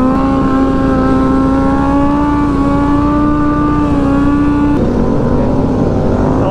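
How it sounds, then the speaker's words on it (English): A loud Yamaha FZ motorcycle engine at a stunt ride holds a steady revving drone, pitch climbing slightly before shifting abruptly near the end. "I like that rev on that FZ."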